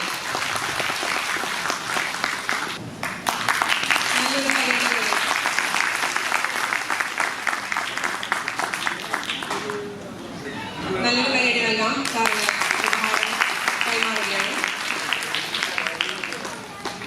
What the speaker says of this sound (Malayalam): വലിയൊരു കയ്യടി നൽകാം